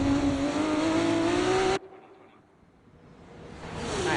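A Formula 2 race car in a video game at Monaco, a loud high engine drone that drops off abruptly, then swells back up as the car accelerates again.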